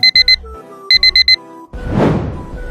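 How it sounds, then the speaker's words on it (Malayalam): An alarm clock rings at 5 am in two short bursts of rapid electronic beeps, each followed by a brief melodic tone, then a soft rushing swell with no one speaking. "രാവിലെ 5 മണിക്ക് തന്നെ അലാറം വെച്ച് എണീച്ച്"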